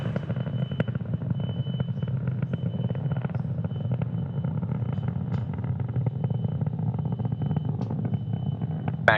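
A SpaceX Falcon 9 rocket climbing on nine Merlin 1D engines, heard as a continuous low rumbling roar with crackle, steady and distant, with no talking.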